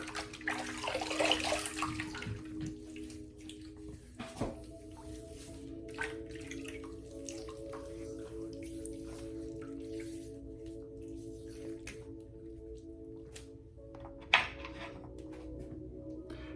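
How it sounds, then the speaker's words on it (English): Water splashes and drips in a basin as a face is rinsed before a straight razor shave, with a burst of splashing early on, then scattered faint drips and trickles over a low steady hum. "I'm going to rinse my face in the water here"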